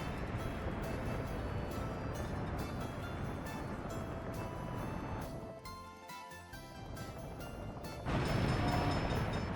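A train in the video game Workers & Resources: Soviet Republic rumbles along steadily with a dense mechanical roar that dips briefly and then surges back louder near the end.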